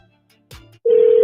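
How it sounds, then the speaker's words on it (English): A telephone rings after a couple of brief clicks and a short low tone, the ring starting abruptly as a loud, steady electronic tone that fills the end of the moment. "The phone's ringing."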